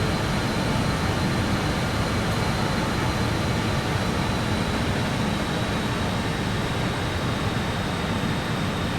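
Jet engines of a BAe146 airliner as the throttles are eased back: a loud, steady, broadband roar that fills the whole stretch without noticeable change.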